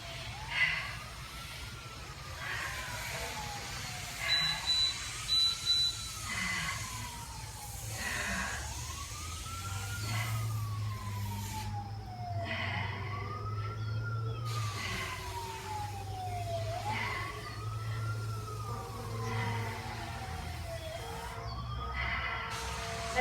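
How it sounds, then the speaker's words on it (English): Fire truck sirens wail outside in a steady rising-and-falling sweep that repeats about every four seconds, with traffic rumble underneath and occasional short horn-like blasts; the sirens stay moderately loud throughout without fading away. "I don't think a day goes by that we don't hear the fire trucks."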